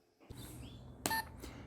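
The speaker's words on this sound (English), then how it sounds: "This should beep once at the start of the recording" A small voice recorder for a personalized greeting card gives one short, sharp electronic beep near the middle, over faint low background hum.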